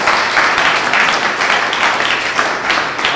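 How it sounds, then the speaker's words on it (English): An audience at a tech meetup applauds a round of startup demos, giving sustained, dense clapping that holds steady for a few seconds in an indoor room. "Let's give our first demos a round of applause."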